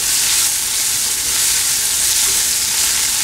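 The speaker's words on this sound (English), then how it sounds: "Now I am going to add our crushed ginger and garlic." Crushed ginger and garlic sizzle steadily in hot oil in a pan, a loud, close, continuous frying hiss with no voices.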